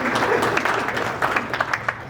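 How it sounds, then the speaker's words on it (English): An audience at a high school baseball hall of fame ceremony claps for an honoree, a brief round of moderately loud applause with individual sharp claps standing out, no speech heard. "How about a round of applause for Meg over here?"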